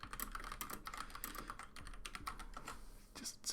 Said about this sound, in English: Just gonna type that in.